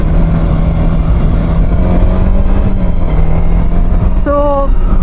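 TVS Apache RTX motorcycle on broken tarmac trails near Shimla–Kufri, its engine droning steadily and loudly throughout as it pulls under throttle, with a voice speaking over it.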